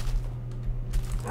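A pet dog in a Minecraft-style video game whimpers and yips in short bursts over a steady low electronic hum.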